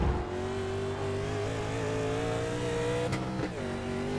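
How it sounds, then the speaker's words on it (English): A race car engine at Watkins Glen drones steadily at high revs with a shifting pitch, and tires squeal near the end. "You can hear the tires just squealing."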